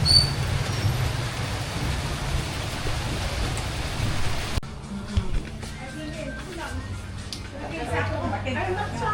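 Rain pours steadily at a village fiesta as a dense hiss, then falls off into lighter, scattered dripping with occasional knocks, while a voice talks over it.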